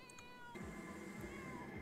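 Cats meowing in the life-simulation game The Sims 4, repeated drawn-out meows layered over steady game background sound, close and fairly loud throughout with no talking.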